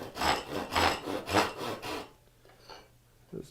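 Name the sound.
hand saw cutting a dado in a wooden board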